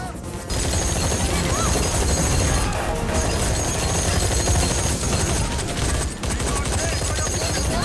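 Rapid gunfire and crashing impacts from an action film shootout and chase, loud and nearly continuous with dense bursts and brief dips, likely mixed with a music score.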